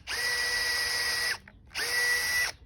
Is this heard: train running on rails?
no